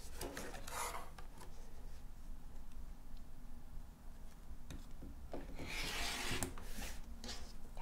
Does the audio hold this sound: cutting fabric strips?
yes